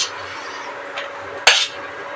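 Fried cashews and raisins being lifted from a kadai into a separate bowl while making sabu payesh: a single sharp metal clink and scrape of a spoon against the pan stands out over a quiet, faintly hissing kitchen.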